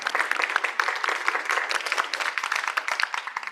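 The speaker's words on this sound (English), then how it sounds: "Can we give him a round of applause" Audience applause for Raj at a school wellness gathering: dense, steady clapping from a group, sustained evenly throughout at moderate loudness with no talk over it.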